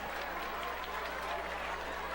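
Applause from a large crowd at a high school basketball game between New Trier and Evanston, steady dense clapping filling the gym throughout, with faint voices mixed in.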